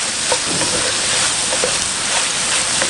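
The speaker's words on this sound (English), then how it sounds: "we'll keep sizzling that away" Rib eye beef sizzles steadily and loudly in a pan at a campsite, a constant crackling hiss with faint stirring clicks, no talking.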